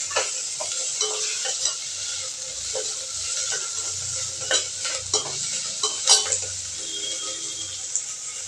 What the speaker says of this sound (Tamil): இப்போ நம்ம அது கூட தக்காளி, கொத்தமல்லி, கருவேப்பிலை இலை போட்டு கொஞ்சம் வதக்கி விட்றோம்.